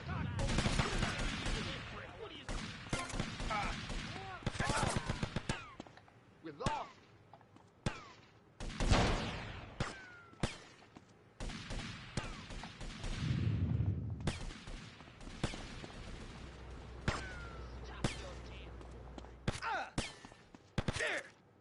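Gunfire in the video game GTA Vice City comes as sharp, scattered shots and short bursts, some loud and close, others quieter, with a player talking between them.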